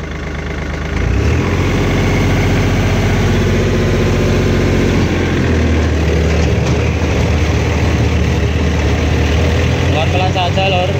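A Kubota combine harvester's engine, idling steadily at first, then jumping to a louder, fuller roar as the throttle is pulled and holding there at a constant drone, close up and loud.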